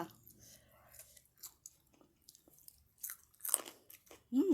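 Close, quiet crunching and chewing of cowpeas eaten with a shrimp paste chili dip, with short bursts of biting scattered between pauses and a soft voice near the end.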